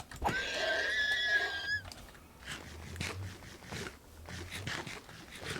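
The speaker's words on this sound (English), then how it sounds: "Well, you are a noisy horse." A horse in a Minecraft game gives a loud high whinny at the start, followed by quieter scattered clopping and rustling.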